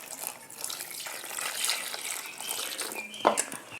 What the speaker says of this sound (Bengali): এবার বেগুনগুলোকে ধুয়ে নিতে হবে,